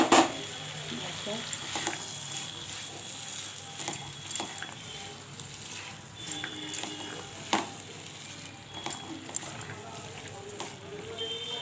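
Ghugni is stirred and sautéed in a pan. A soft, steady sizzle runs under scattered scrapes and clinks of a spoon against the pan, close and moderately loud, with no talking over it.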